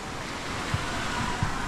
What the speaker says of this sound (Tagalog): Lumalakas ang alon.